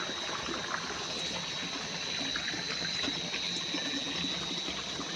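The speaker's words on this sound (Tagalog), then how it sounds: "dito po may sapa" Continuous broadband rush of flowing creek water, steady and fairly loud, with a faint high whine running through it and no voices.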